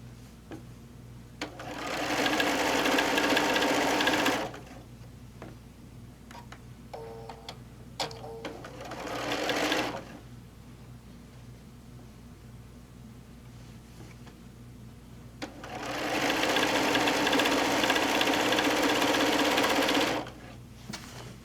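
A sewing machine stitches a quilt in three steady, whirring runs of a few seconds each, with quieter pauses, light clicks and a low background hum between bursts.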